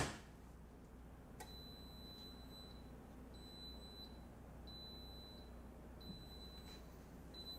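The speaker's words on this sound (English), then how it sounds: "that curing cell is about to start beeping" Curing cell for golf club assembly beeping, a series of faint high electronic beeps repeating at regular intervals over a quiet background hum.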